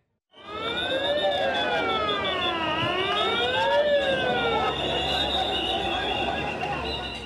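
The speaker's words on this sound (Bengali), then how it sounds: "সাইরেন বাজিয়ে লাশবাহী অ্যাম্বুলেন্স জরুরি বিভাগে ঢোকার সঙ্গে সঙ্গে" A loud wailing siren of an ambulance carrying a body, sweeping up and down continuously close by as it enters a hospital emergency department, starting abruptly after a brief silence and sounding without pause.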